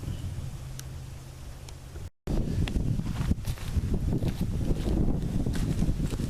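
Strong outdoor wind buffets the microphone in broad steady roaring gusts with faint rustling, cutting out briefly midway before returning louder.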